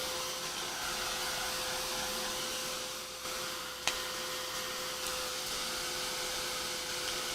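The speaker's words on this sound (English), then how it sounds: "So I'm just giving it a shot of heat to kind of encourage it." Heat tool blowing hot air to dry paint on a page, a steady loud fan roar with a faint whine, briefly dipping once with a small click before continuing.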